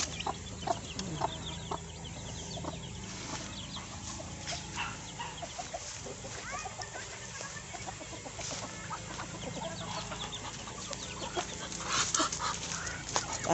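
A cobra breed chicken clucks in a poultry yard, with repeated short clucks and other fowl calls scattered over a low, busy farmyard background.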